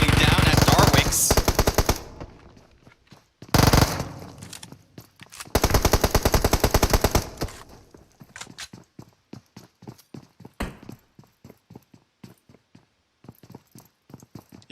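Rapid bursts of automatic gunfire crackle in a PUBG Mobile competitive scrim match, loud volleys separated by gaps, followed by scattered lighter shots.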